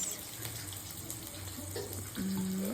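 Tomato frying in a pan for a Bhutanese dry fish and onion leaves dish, a steady close sizzle with faint stirring, then water poured in near the end with a running, splashing tone.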